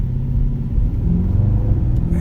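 A 2018 Mercedes-Benz E63 S AMG with a 9-speed automatic gearbox drives and shifts, its engine a loud, deep, steady rumble from inside the cabin with slight changes in pitch.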